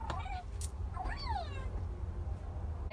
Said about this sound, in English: started playing with this cat toy that's going to be making noise for a bit